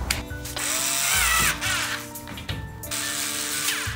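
A power driver tightens bolts on an Ooni modular table frame, whirring steadily and close for the whole stretch, with short dips in pitch and a brief pause.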